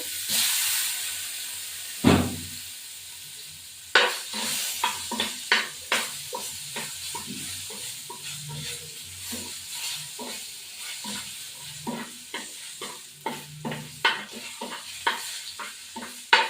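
Four potatoes hit hot oil in a pan that just held fried fish, giving a burst of sizzle followed by repeated scraping stirs and crackling bubbles, close and fairly loud with intermittent clatters.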